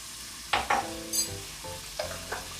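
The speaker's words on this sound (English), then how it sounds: "we got the butter melting in there, and we're gonna add a few cloves of garlic here" Garlic cloves sizzle in melted butter in a pan for a red wine reduction sauce, a steady frying hiss with a few brief louder crackles and stirring scrapes, close and alone without talk.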